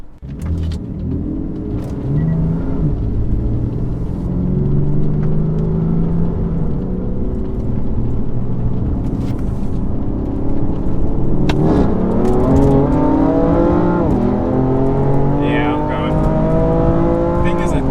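A BMW M340i, a Dodge Charger 392 SRT and a BMW F80 M3 Competition accelerate hard in an automatic-transmission roll race, loud rising engine roar with climbing revs and gear changes, close and sustained, with voices talking over it.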